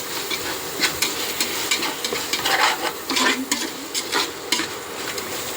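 Biryani ingredients with a handful of mint and coriander stirred as they fry in a pot, giving a steady close sizzle broken by irregular scraping and clinking strokes of the spoon against the metal.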